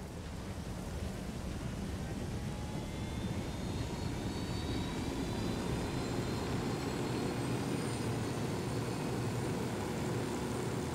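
Helicopter in the Ghost Recon video game, a steady loud rotor and engine drone that holds throughout with no talk over it.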